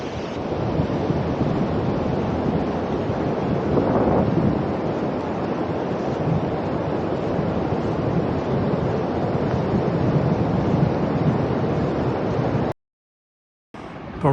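Strong wind buffets a microphone on a coastal path above Saunton Sands beach, with surf rushing underneath in a continuous loud roar that cuts out abruptly near the end.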